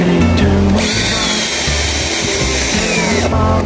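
A power drill whines steadily and loudly, driving screws into the legs of a Sanyang center table during flat-pack assembly, with brief pitch changes as the bit starts and stops.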